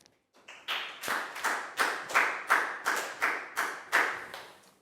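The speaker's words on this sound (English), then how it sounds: "Big round of applause for Pak Bung" A primary classroom of pupils claps for a classmate during a Year 4 maths lesson, a burst of about eleven quick, even rounds of clapping swelling and fading in a steady rhythm, close and fairly loud, with no talking over it.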